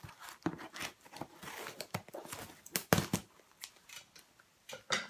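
Scissors snip through packing tape on a box of wool fleece, a close series of sharp cuts and crinkling plastic and cardboard, with irregular bursts and pauses.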